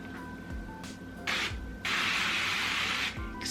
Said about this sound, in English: So I'm gonna spray this silicone